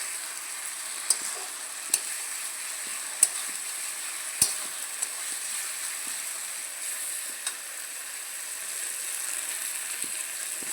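Spices fry in oil for a chicken curry, a soft even sizzle running throughout, punctuated by sharp little taps and clicks of a spoon against the pan at irregular intervals, with no one talking.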